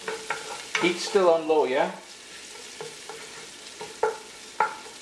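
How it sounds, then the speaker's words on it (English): Roasted ground cumin is stirred in a frying pot over low heat, giving soft scraping strokes and a light sizzle, with a few sharp utensil taps as someone speaks over it. "Give that a nice little stir."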